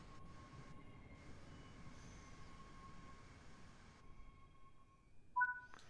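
A train in Train Sim World pulls to a stop at a Scottish platform, a faint steady rumble carrying thin tonal hums, ending with a brief squeal.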